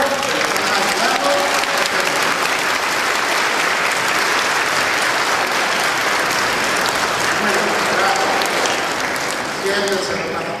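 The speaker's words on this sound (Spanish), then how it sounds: "le tienen que dar un aplauso de gracia" At a first communion in a church, children applaud their parents with sustained, dense clapping that stays loud and steady throughout, with faint voices mixed in.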